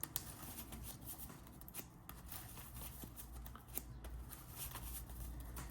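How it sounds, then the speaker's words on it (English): A double-sleeved deck of playing cards for a 60-card Yu-Gi-Oh! Blue-Eyes deck, shuffled in halves, gives a steady run of close, crisp riffling and flicking with small sharp snaps and no voices. "I usually shuffle a lot"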